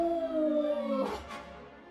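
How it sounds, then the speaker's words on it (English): A boss creature in Dragon Quest XI lets out a long, tonal, wolf-like howl that holds steady and then breaks off into a noisy rasp, loud and close, with no talk over it. "She howls, so she's like a wolf"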